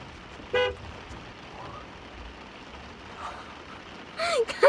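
A car horn gives a short toot early on, then a couple of quick honks near the end, over a quiet background hum.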